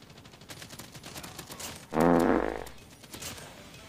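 A single loud burst of gunfire from Call of Duty: Mobile, set against a low background of game sound.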